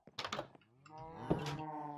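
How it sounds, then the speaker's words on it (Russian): Cows mooing in Minecraft: a few short game sounds open the clip, then a long, loud, tonal moo with steady harmonics fills the rest, with no talk. "Мы сейчас покормим еще коровок."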